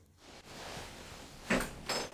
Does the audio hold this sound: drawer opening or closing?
yes